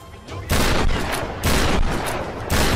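Loud bursts of gunfire from the Tomb Raider video game come in three heavy volleys of rapid shots, each one sharp and close, with quieter moments between them.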